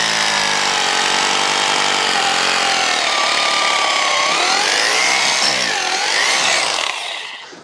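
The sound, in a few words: drilling a fence post hole for T-posts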